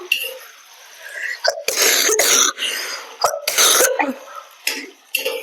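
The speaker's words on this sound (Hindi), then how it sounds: "खांसी बहुत ज्यादा हो रही है मुझे" A woman with an allergy coughs hard several times in close succession, harsh, loud bursts close to the microphone, broken by short breaths and a little speech.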